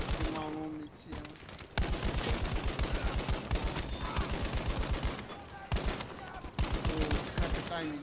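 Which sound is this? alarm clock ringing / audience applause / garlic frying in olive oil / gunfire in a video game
gunfire in a video game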